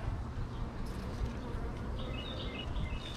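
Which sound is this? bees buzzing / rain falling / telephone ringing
bees buzzing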